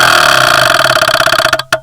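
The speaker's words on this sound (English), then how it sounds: "This is a discontinued PED relay, somewhere between the Omron and Finder sound. It's quite throaty." A discontinued PED relay switching with a throaty, buzzing chatter, loud and close, a rapid pulsing drone that stutters and cuts off near the end.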